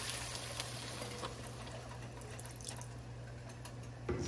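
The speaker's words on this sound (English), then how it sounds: "So now we're gonna add our 3 cups of beef broth." Beef broth pours into a pot of stroganoff base, a soft continuous watery trickle and splash heard faintly and alone, with a slightly louder splash right at the end.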